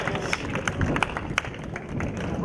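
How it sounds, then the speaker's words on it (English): A crowd at an outdoor strongman event claps and cheers for the competitors, steady scattered applause with sharp individual claps, fairly loud and close, with voices mixed in. "give them a round of applause"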